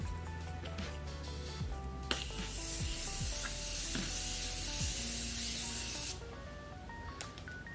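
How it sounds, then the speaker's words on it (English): A continuous hissing spray of Morphe Continuous Prep and Set Mist on the face lasting several seconds, close to the microphone, with faint background music behind it. "I'm gonna set my makeup with my Morphe Continuous Prep and Set Mist"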